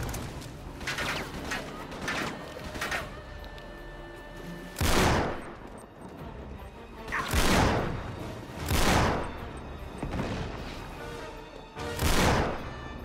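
Gunfire in the video game Uncharted 3: Drake's Deception, a pirate ship battle: crackling volleys of shots throughout, with several loud bursts standing out at intervals over a busy background.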